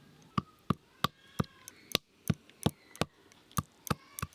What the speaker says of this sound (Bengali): এবার আমি গোটা হলুদ বেটে নেব।